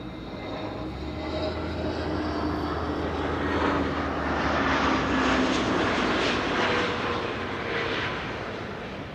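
An SAS airliner arriving from Copenhagen at Amsterdam Schiphol produces a sustained, moderately distant engine roar that swells gently and then eases throughout.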